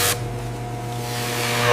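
Spray booth under negative pressure applying base coat to tiger leather, a steady airy hiss with a low mechanical hum beneath, opening with a brief louder burst of spray.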